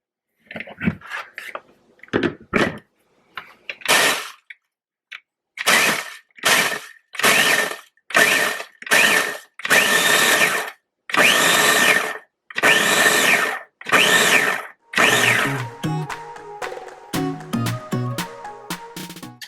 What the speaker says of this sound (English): I'm going to use my new little chopper tool to crush my graham crackers